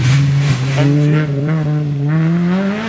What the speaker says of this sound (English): Front wheel drive MG.